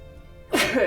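One sudden sneeze, close and loud, erupts after a moment of low background hum.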